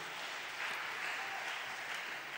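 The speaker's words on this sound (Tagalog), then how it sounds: "Buhay na palakpak para sa ating mahal na Panginoon." Church congregation clapping during a preaching service, a soft, distant and continuous patter of many hands that swells slightly midway.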